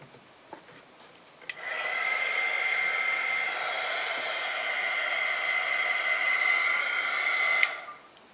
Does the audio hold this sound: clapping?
no